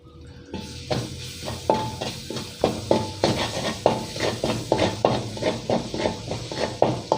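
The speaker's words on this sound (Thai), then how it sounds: "ก็คั่วให้หอมครับ ใส่น้ำมันเยอะนะครับ" Pounded garlic, pepper and coriander root paste is stir-fried in plenty of oil over medium-low heat, with loud, rhythmic metal scraping and knocking strokes repeating steadily over a low sizzle.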